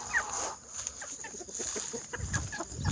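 Hens cluck in a backyard flock, scattered soft clucks and short calls coming at irregular intervals with a bit of background rustle, moderately near but quiet.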